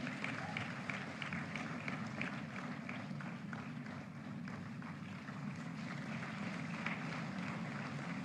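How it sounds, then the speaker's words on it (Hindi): At a National Film Awards ceremony, a large audience keeps up dense, steady applause for several seconds, distant and even, with a faint voice underneath. "जोरदार तालियां"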